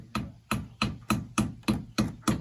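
A hammer strikes a wooden board pressed up against a cabin's header, seven evenly spaced sharp knocks at close range, each ringing briefly before the next blow.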